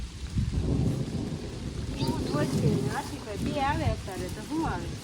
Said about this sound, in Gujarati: વરસાદ હરુડે છે તમને સંભળાતો હોય છે કેવો હરુડે